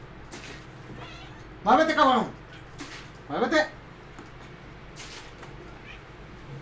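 A house cat chewing on a box lets out two loud, drawn-out meows in the middle of the stretch, while someone shouts at it in Spanish before and after.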